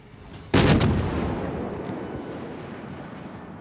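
A heavy broadside from the ship's guns in World of Warships, aboard the cruiser Boise: one loud, close blast followed by a long rumbling roar that slowly fades, with no talk over it.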